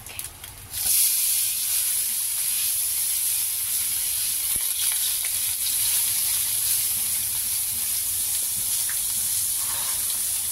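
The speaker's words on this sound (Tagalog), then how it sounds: "Igigisa ko na yung pinaka-sauce niya. Ito na yung minced tausi, chili, and garlic." Minced tausi, chili and garlic sauté in hot oil as a sauce for tofu, a loud, steady sizzle and hiss that starts abruptly and continues unbroken without any talking.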